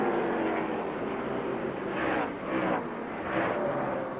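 NASCAR Winston Cup stock cars race at Phoenix International in a steady, loud engine roar, with several cars swelling past in quick succession.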